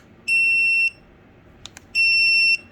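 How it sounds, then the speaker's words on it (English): Two loud, piercing electronic beeps from a dog training collar, each lasting over half a second, separated by a short pause with a couple of faint clicks between. "we're gonna do the beeping noise first"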